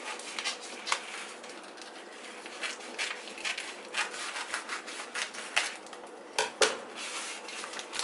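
Plastic bacon packaging is sliced open with a knife in a home kitchen while making breakfast, giving a series of close, crinkly scraping and tearing rustles in short bursts over eight seconds, with no talking.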